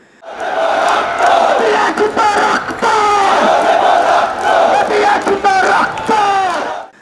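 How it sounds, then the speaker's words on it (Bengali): Students chanting slogans in unison at a commemorative march for those killed in the 2024 uprising in Dhaka, a loud, close crowd repeating rhythmic call-and-response phrases. "এ সময় তাদের মুখে শোনা যায় নতুন বাংলাদেশের নতুন স্লোগান"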